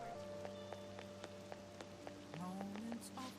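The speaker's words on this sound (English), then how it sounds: "I heard the rain front is going to stagnate here for a while." Soft steady rain patters on a surface beneath quiet game music in Persona 5 Royal, faint and continuous with light droplet ticks and no speech.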